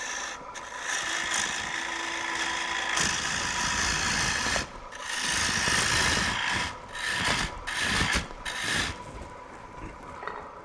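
A gouge cuts into spinning wood on a lathe during a woodturning demonstration, making a continuous loud rasping scrape that surges and briefly breaks off as the tool shapes a tenon shoulder.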